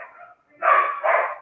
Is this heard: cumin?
no